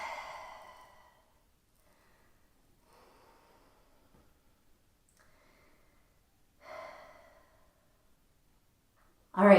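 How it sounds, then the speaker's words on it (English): Slow, deep breaths during a prenatal child's pose: a soft exhale at the start and another several seconds later, separated by near silence, with a further breath at the very end. "just breathe deeply"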